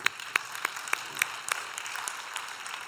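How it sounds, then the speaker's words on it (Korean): A church congregation claps in scattered, separate bursts, roughly one sharp clap every third of a second. The sound is faint and distant and no one speaks over it. "박수 한 번만 더 칠까요?"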